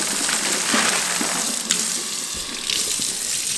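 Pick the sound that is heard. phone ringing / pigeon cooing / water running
water running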